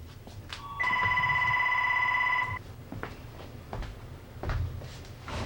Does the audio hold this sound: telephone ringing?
yes